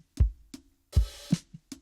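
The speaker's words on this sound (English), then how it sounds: "It's Easy Drummer's Tight Room kit." EZdrummer Tight Room kit playing a sparse, basic beat: dry kick thumps, a snappy snare hit and light tom-like taps, close and quiet with short gaps.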